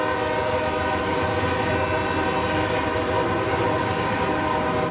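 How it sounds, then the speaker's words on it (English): A train rolls through San Marco in Jacksonville as a steady, loud, unbroken rumble with sustained tonal hum throughout, heard alone without voices. "The trains running through San Marco and parts of downtown Jacksonville are frustrating"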